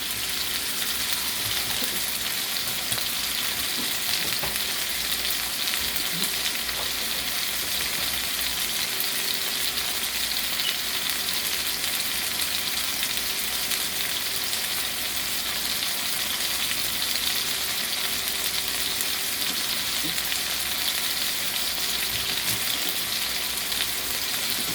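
Balsamic vinegar chicken fries in a pan, giving a steady, close, continuous sizzle with crackle throughout and no voices.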